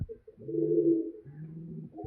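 A pigeon coos nearby in low, throaty rolling notes, one long coo followed by a shorter one, with no other sounds around.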